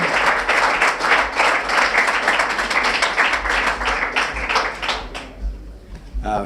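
An audience at networking drinks held at the Kia Oval cricket ground applauds loudly and steadily for about five seconds, then the clapping thins out and fades. No one speaks over it.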